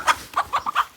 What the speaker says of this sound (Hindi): ये रहे जी हमारे मुर्गे मुर्गियाँ